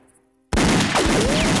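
Cartoon gunfire in a Lucky Luke animation: after a brief quiet, a loud burst of rapid shots rings out, with a whistling ricochet sweeping through the volley.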